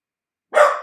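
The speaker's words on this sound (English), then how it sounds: "It's a dog named Kitty." A dog gives one sharp, loud, close bark that ends abruptly after a moment of silence.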